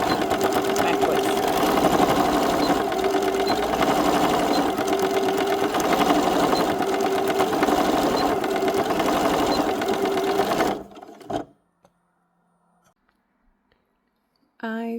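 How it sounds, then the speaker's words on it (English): Sewing machine running steadily at close range for about ten seconds, stitching braid and yarn onto upcycled fabric patches, then stopping with a couple of clicks before a short burst of noise at the end. "here I'm just sewing braid and yarn together"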